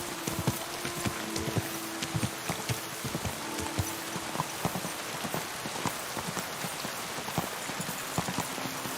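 Horse hooves clip-clop at a steady pace through falling rain in the Kingdom Come Deliverance 2 video game, the rhythmic knocks set against a constant patter of raindrops.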